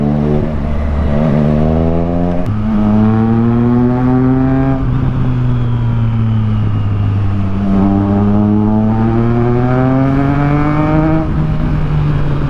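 A Triumph Tiger Sport 660 with an inline-three engine accelerates hard, loud and close, its steady growl climbing in pitch and dropping back at each of several gear changes over a continuous run with no voices.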